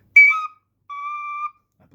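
High tin whistle notes from an Elfsong Enchantress whistle, a short bright ornamented note, then a pause and one clean sustained tone, played alone.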